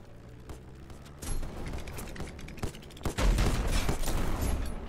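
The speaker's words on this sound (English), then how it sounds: "Hold right button to aim the side cannons," Ship side cannons fire a volley in the video game Black Skylands: a burst of booming shots swells around the middle, then heavier blasts roll loud and dense through the end over a steady game din.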